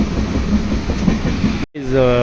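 A passenger train runs on rails near Nellore, with a loud, close rumble and rhythmic clickety-clack that cuts out briefly before a tonal whine and continued running noise.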